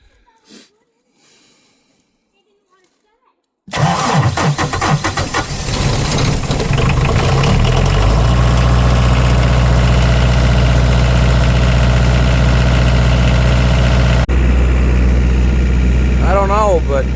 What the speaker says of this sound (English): this has got to be the loudest generator I've ever heard